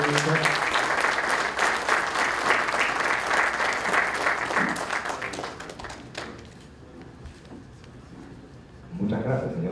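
Intense, sustained applause from an audience at a university ceremony for conferring credentials on top authorities, loud steady clapping for about six seconds before fading out, followed by a voice speaking.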